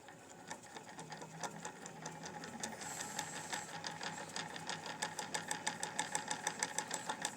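A hand-spun permanent magnet flat disc alternator gives off a rapid mechanical whirring hum with quick pulsing ticks that grow stronger and more evenly spaced as it speeds up, faint and close with no talking.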